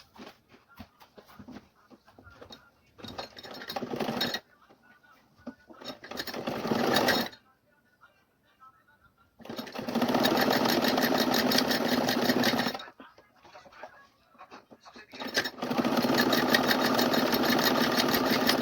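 A sewing machine stitches a cloth cap in several bursts, each a loud, rapid, steady whirring run lasting a few seconds, separated by short pauses of near quiet, close up.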